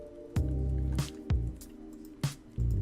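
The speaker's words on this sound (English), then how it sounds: "Pour that super spoiled milk on that plant." Spoiled milk is poured onto a plant in Read Only Memories, heard as a series of wet squishy splats, about five sharp onsets each followed by a short gurgling tail.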